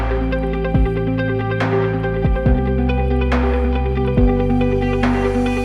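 A steady drum groove with punchy kicks and sharp snare hits, sitting under a sustained synth and bass backing, loud and upfront.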